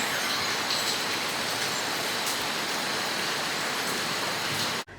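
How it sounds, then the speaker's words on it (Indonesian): Heavy rain pours steadily on a building site where a kitchen is being fitted, a dense, loud, even hiss that cuts off abruptly just before the end. "Dan ini hujannya turun, sudah mulai deras teman-teman."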